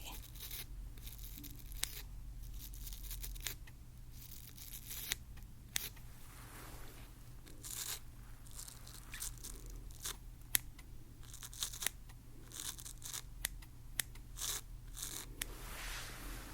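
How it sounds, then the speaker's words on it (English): Small snipping clicks of scissors trimming repeat irregularly over a quiet low hum, close and fairly soft. "what we're gonna do is use our scissors in that area, just a little bit"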